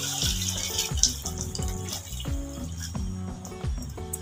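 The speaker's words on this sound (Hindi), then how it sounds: "अभी हम इसमें शामिल कर देंगे पानी, जो इसमें यखनी बनती है वो पानी मैं इसमें शामिल कर रही हूँ" Water pours into a pot of mutton to make stock for Pakistani pulao, a continuous close splashing and gurgling stream with no speech over it.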